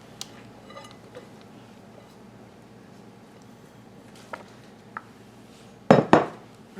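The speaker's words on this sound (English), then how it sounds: "So I'm just going to dump my veggies in there." Vegetables for a summer pasta salad tumble into a bowl in one brief, loud clattering burst near the end, after a quiet stretch with faint kitchen clinks.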